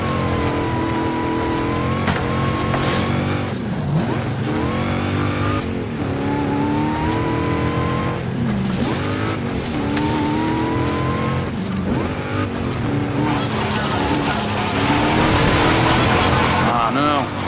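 Cars race along treacherous jungle dirt roads in Forza Horizon 5, with engines revving and roaring hard throughout, tires skidding on loose ground, and a dense, loud, continuous mix of motors under game music.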